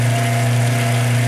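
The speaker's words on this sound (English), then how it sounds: "this pump is almost pulsating" A homemade TIG welder cooler's water pump runs with a steady, loud motor hum that carries a slight pulsing throb, heard close and alone.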